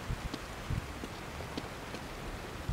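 Steady rain falling in the horror video game The Evil Within, a soft broadband hiss with scattered low thumps and faint drip ticks, continuous and unaccompanied by talk.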